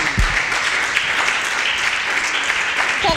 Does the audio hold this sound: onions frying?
no